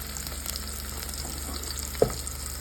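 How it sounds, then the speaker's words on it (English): Onions frying in hot palm oil for Nigerian abacha, a steady close crackling sizzle with a single sharp pop near the end, no voices. "To heat up our palm oil. So now we are going in with onions."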